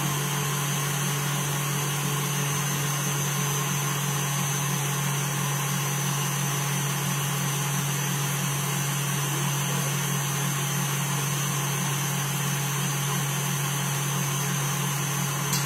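An electric mixer beats macaron batter at speed 6, giving a steady, unbroken motor whir that holds at one level throughout with no talk.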